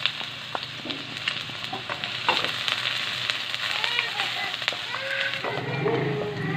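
Garlic sautéing with onion in a pan for pancit canton, a continuous crackling sizzle with scattered stirring clatters, close and fairly loud, a voice speaking briefly over it.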